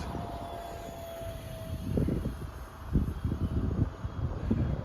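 Strong gusting wind buffets the microphone outdoors at a field where mini RC jet fighter planes are flown, a low rumbling roar that swells in uneven bursts with a faint thin motor whine underneath.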